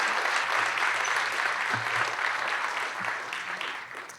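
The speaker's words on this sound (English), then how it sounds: "Let's give him another round of applause here for Fresno" A crowd claps steadily, a dense wash of applause that holds strong and then begins to thin toward the end.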